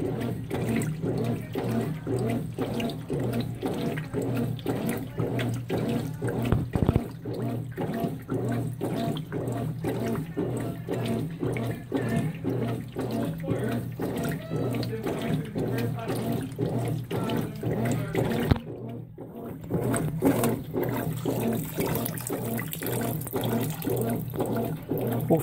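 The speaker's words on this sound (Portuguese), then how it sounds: "Enfim, tá lavando, tá dando rollover, tá subindo e tá descendo." A Consul 16 kg top-loading washing machine churns clothes in water, producing a continuous sloshing wash with a rhythmic back-and-forth pulse that runs steadily throughout, briefly dipping near the end.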